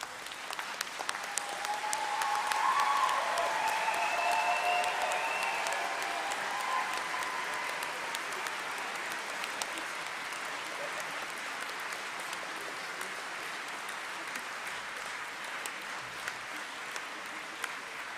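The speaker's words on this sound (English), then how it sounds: "show your appreciation to those who have supported you by giving them a round of applause" Graduation audience applauding at a university ceremony, a broad wash of clapping that swells early, then holds steady and slowly thins over a long stretch, with a few whoops or cheers near the start.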